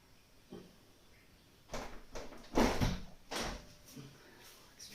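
An indoor French door is handled and swung open to let a cat out, giving a quiet series of clunks, rattles and scrapes with one stronger knock in the middle.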